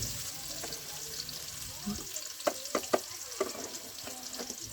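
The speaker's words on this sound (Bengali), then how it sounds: "খন্তি দিয়ে একটু নাড়া দিয়ে নিব যাতে পেঁয়াজগুলো ভালোভাবে মিক্স হয়ে যায়" Onions and green chillies are stirred with a spatula in a pan, producing a soft background sizzle with a series of sharp, close taps and scrapes from the metal spatula, clustered toward the end.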